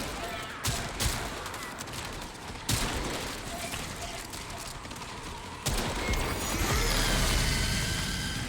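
Sniper shots and other gunfire during the Scarlet Spear event in the video game Warframe crack out as sharp, isolated bangs spaced a second or more apart over a dense, steady game soundscape.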